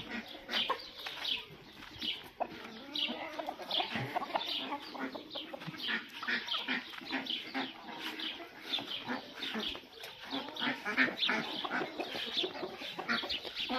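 Chickens and ducks in a farmyard in the evening, with steady clucking and crowing fowl, scattered quacks and some wing flapping, all fairly close and continuous throughout with no talk.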